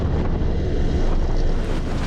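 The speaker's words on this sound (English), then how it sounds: "It's a little bit windy, so I hope you can hear us all right." Strong, continuous wind roars and buffets the microphone on the beach at False Entrance near Steep Point, loud and unbroken with no voices.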